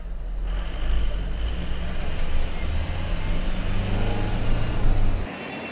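A tractor drives through a flooded road at Bengaluru airport, its engine giving a continuous low rumble with a shifting drone and a watery wash, near and steady, ending abruptly.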